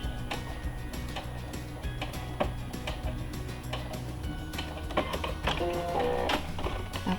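A sewing machine stitching the seam of a child's fabric face mask, giving a quiet, rapid mechanical ticking that runs steadily with a few heavier clicks near the end.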